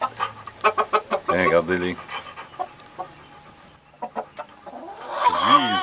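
A new rooster and hens cluck and squawk in a coop in short bursts, with someone talking in French over them.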